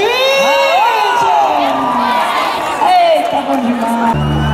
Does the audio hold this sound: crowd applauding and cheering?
yes